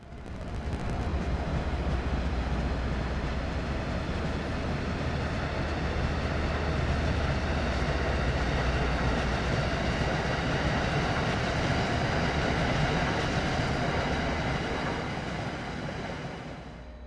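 An MBTA passenger train runs on the Boston Sprinter route in Train Sim World 3, giving a steady, loud rolling drone with continuous engine and track rumble that holds the same level throughout.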